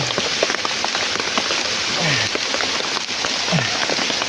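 Rain pouring down outdoors on a farm, a dense, steady hiss of drops on surfaces, loud and close, with faint background sounds mixed in.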